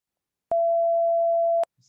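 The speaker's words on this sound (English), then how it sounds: "A sine wave." A pure sine wave tone from an oscilloscope keyboard synthesizer holds one steady pitch for just over a second, clean and loud, with sharp clicks at its start and stop, alone in silence.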